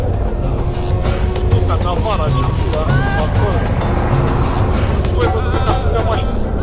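Loud, busy street scene in Guinea with an overloaded vehicle, eight people inside and one on the luggage on top, roaring past quickly at close range, engine noise steady throughout, with voices and other traffic mixed in.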